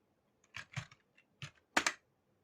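Short bursts of clicky key presses on a computer keyboard while entering a pip install command, a few quick taps grouped in clusters with pauses between, close and clear, no voices.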